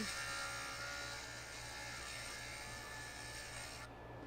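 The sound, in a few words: grinding copper disc with JOOLTOOL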